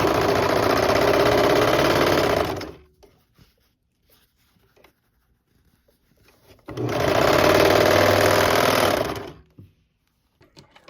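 A serger stitching along the edge of a fabric face mask, two loud steady whirring runs of about two and a half seconds each, separated by quiet handling noises.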